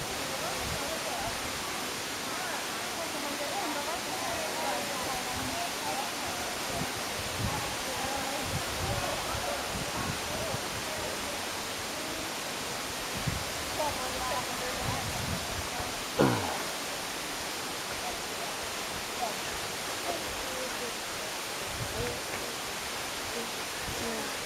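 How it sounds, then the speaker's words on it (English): A waterfall in El Yunque rain forest gives off a constant broadband rush, with voices talking intermittently over it and a brief sharp knock partway through. "if you can get down to the waterfall, under it, or you can go above it."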